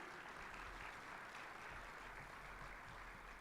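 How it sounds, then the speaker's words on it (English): A conference audience gives a round of applause during opening remarks, a faint but continuous wash of clapping heard from a distance with a low hum underneath. "let's please give everybody a round of applause that made these 2 days happen"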